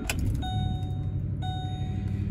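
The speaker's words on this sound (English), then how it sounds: "So I'm gonna go ahead and start the car up." Ford 5.4 V8 in an idling car with steady low engine rumble close by, accompanied by repeated electronic dashboard chimes, a clear ding at the start and another midway.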